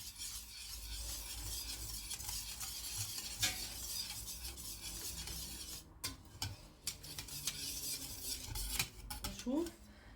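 A spoon stirs Syrian shakriyah with meat in a pot, giving steady scraping and clinking against the metal under a low simmer, with a few sharper knocks near the end.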